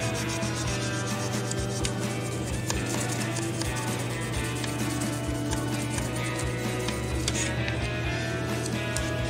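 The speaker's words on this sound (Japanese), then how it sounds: "3000番で表面を磨くようにしてますね。" A plastic 1/12 Italeri Lancia Delta HF Integrale 16V model car body is polished by hand with 3000 grit abrasive, making a continuous close scratchy rubbing with a steady back-and-forth rhythm alongside a constant low hum.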